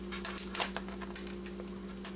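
Keys being pried off an electronic device being scrapped for parts, giving scattered sharp plastic clicks and snaps at an irregular pace, close up and fairly quiet over a steady low hum.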